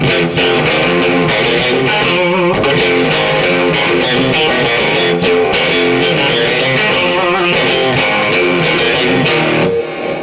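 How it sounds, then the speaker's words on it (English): Electric guitar played through a Boss ME-70 multi-effects unit into a 200-watt amp, regular rock tone with light reverb, loud sustained chords and riffs ringing continuously for about ten seconds with no talking. "So this is my regular guitar tone."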